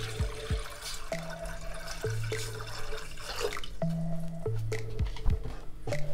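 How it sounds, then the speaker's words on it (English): Four cups of water poured into a cooking pot for Jamaican corned beef pasta give soft splashes and drips, with a few brief knocks and clinks and low background hum, close and moderately quiet. "to the pot, we're going to add four cups of water"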